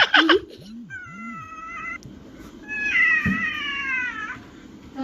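A cat meows several times up close, drawn-out whiny cries with a couple of short low chirps in between.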